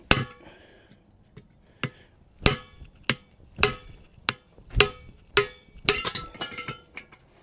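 A series of sharp metallic hammer strikes on a punch against a truck wheel hub, about a dozen irregularly spaced blows ringing brightly, growing more frequent toward the end.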